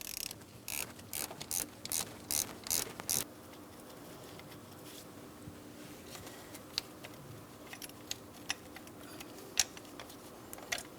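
Ratchet wrench clicking in quick bursts while loosening a 13mm bolt on the engine mount bracket of a 2004-2008 Pontiac Grand Prix, close by, followed by quieter scattered metallic ticks and handling noises.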